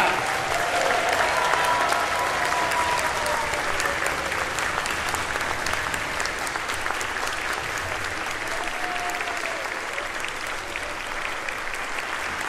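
Audience applause for Ballet Virginia fills a children's concert hall, a dense, steady wash of clapping from a large crowd that holds evenly throughout.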